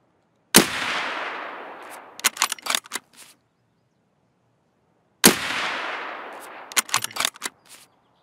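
Video game gunfire in two separate bursts, each opening with a sharp loud shot and a decaying roar, then a scatter of quick cracks; close and loud, with a stretch of silence between the bursts.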